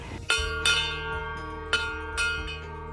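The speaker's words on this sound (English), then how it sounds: "We were finally able to get a bell in the garden. It's a large bell." A large outdoor garden bell rings out several times with long resonant tones, each strike ringing on and overlapping the last.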